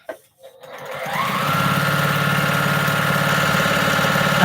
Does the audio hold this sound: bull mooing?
no